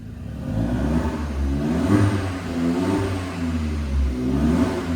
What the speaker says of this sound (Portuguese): Vou filmar você acelerando aqui,